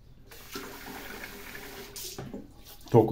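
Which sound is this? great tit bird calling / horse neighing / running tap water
running tap water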